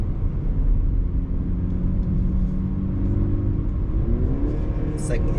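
A car's engine hums steadily while it is driven in gear, a continuous close rumble from inside the cabin that rises slightly in pitch near the end.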